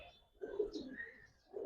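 A Giribaz colouring pigeon coos, a low throaty burble close by that fades and then starts again at the end, with no one talking.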